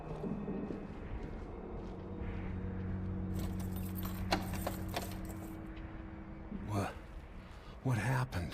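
Keys jangle in Dishonored 2 as a few bright metallic rattles, set against low game ambience and voice.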